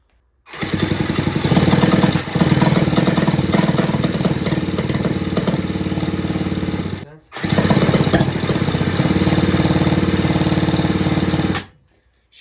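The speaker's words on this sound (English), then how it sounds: "We're going to throw her in the drill, see if she actually runs with a wooden piston." A loud, buzzing drill whirs steadily for several seconds cranking a small two-stroke engine fitted with a wooden piston, stops briefly, then starts again and runs before cutting off abruptly.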